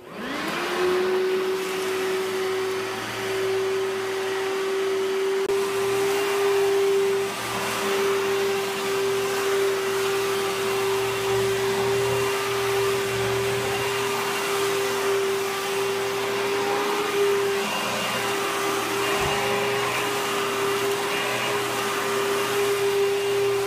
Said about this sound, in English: I have an Oreck vacuum, and it is the lightest vacuum in the whole planet.